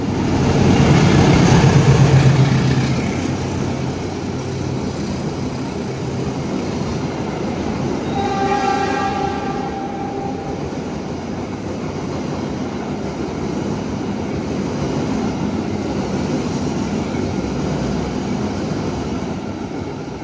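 The Sembrani train passes alongside the Ambarawa Express, a loud rolling rumble that swells early and then settles into a steady clatter, with a brief tonal squeal in the middle.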